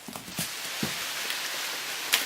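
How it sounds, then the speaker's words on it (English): Walnuts dropping from a shaken tree during a harvest, falling as scattered, irregular patters and soft thuds, with one sharper, louder hit near the end. "Here they come. It's a rain of nuts, folks."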